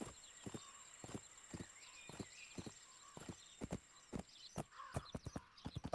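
Steady clip-clop of horse hooves in a video game, a regular rhythm of sharp hoof strikes with a brief quickening near the end, over a faint constant hum.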